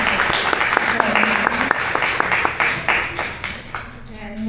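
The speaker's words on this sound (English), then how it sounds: "So a big round of applause for" Audience applause after a spiritual lecture, a crowd clapping steadily at moderate volume with a few sharp claps standing out and a voice beginning to talk near the end.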